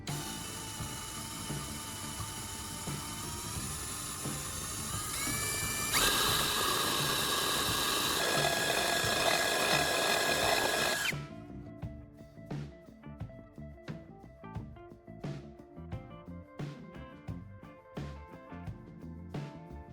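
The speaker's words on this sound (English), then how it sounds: "drill a hole right in the center of the can's bottom, just big enough to fit the threaded part of the spark plug" A drill bores a centered hole through the bottom of a canned meat can, a steady whining grind that rises for about eleven seconds, then stops and gives way to scattered light clicks and taps.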